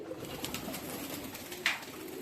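Large black Maniyal pigeons coo softly and steadily at close range, with one slightly louder call near the end and no talking.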